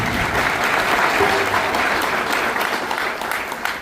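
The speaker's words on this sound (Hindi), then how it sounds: "आप सब तालियों से उनका स्वागत करें।" A hall audience claps together in welcome at a cow shelter gathering, a loud dense burst of applause that holds steady for a few seconds with no voice over it.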